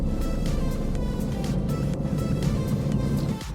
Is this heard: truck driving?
yes